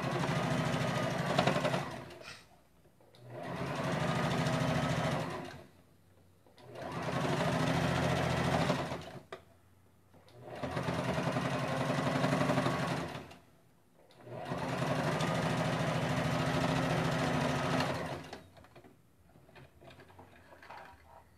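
A sewing machine stitches a small handbag in five bursts of rapid mechanical whirring, each lasting two to four seconds and separated by short pauses. The sound is close and fairly quiet.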